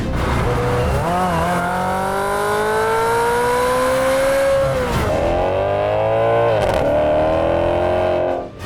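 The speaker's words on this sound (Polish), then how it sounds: "Jeśli kochasz brzmienie silnika V8 tak jak my" A loud V8 sports car engine revs up in long rising sweeps, dips, then climbs again, close and alone with no talking.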